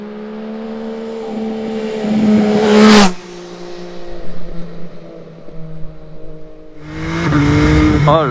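MV Agusta Brutale 800 motorcycle pulls hard through the revs, snapping through a quickshifter upshift with a sharp cut, then burbles and pops on the overrun before accelerating again, loud and close.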